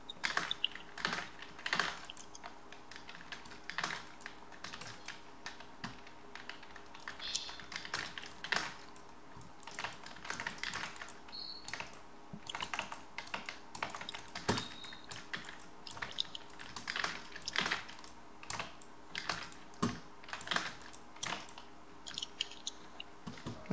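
Continuous rapid clacking of a computer keyboard during a game, with dense irregular keystrokes close to the microphone and little else audible.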